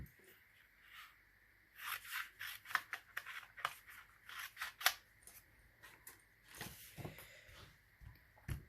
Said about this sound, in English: I'm going to use my snips. I'm just going to cut that off